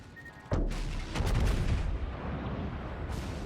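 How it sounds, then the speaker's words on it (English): Anti-aircraft guns firing from a ship in World of Warships, a sudden loud onset of dense booming gunfire that rolls on continuously with sharp bangs layered in. "And as you can see, my anti-air is going nuts."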